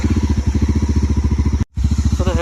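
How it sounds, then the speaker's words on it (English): A 2020 Mahindra Mojo 300 ABS motorcycle engine runs with a loud, close, rapid even thumping, breaks off for a moment, then carries on idling. "So once you start the bike"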